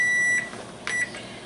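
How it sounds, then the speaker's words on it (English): Kitchen timer beeping while beef and pasta cook, two short sharp electronic beeps close by, separated by a brief gap, with quiet kitchen background. "Timer's going off."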